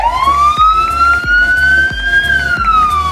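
A municipal police patrol car's siren wails loudly and close at a vehicle handover ceremony in Jalapa, Tabasco, a rising and falling tone over a rapid rhythmic pulsing beat, with no talk.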